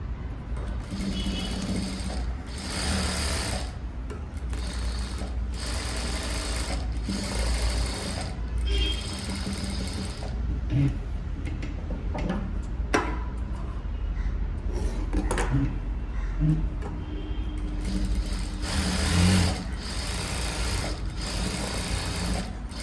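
A sewing machine runs steadily while stitching the finishing line along a blouse hem, a continuous mechanical whir with short pauses and restarts, close and moderately loud, with a person speaking intermittently over it.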